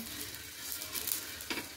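A piece of onion is rubbed across a hot, oiled griddle before dhirde batter goes on, giving a close, steady hiss with a few sharper sizzling bursts.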